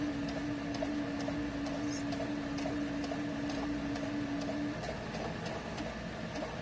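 A sewing machine stitches fabric for a child's apron, giving a quiet, steady mechanical whir with faint regular ticking, heard close and without talk.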